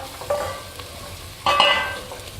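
Garlic being stirred in a pot on the stove, heard as two short scraping, sizzling bursts, the second louder and longer, with no talking.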